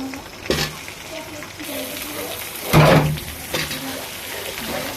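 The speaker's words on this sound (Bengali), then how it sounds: "এখন আমি আমড়াটা দিয়ে দিব।" Hog plums tumble into a hot pan already sizzling with crushed garlic and dried chilies, a sharp hiss flaring up mid-clip over a steady frying crackle, with a couple of softer stirring scrapes around it.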